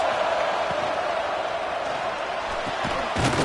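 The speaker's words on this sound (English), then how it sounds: "this crowd is coming to help the defense" A college football stadium crowd at Florida State vs Tennessee roars steadily for the defense on a fourth down, a loud continuous wash of cheering that swells near the end.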